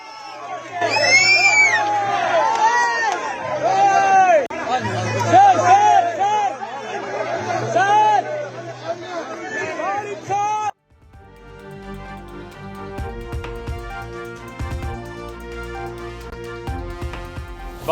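Onlookers cheer and chatter as the chief minister joins schoolgirls in a silambam stick-twirling display at a welcome event, a loud excited crowd with shouts and whoops, giving way to music partway through.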